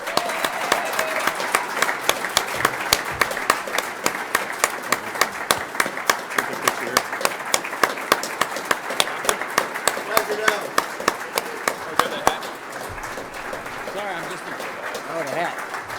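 Crowd in a hall applauding the new Northern State University head men's basketball coach, dense sustained clapping that stays loud for most of the stretch before thinning at the end, with voices mixed in.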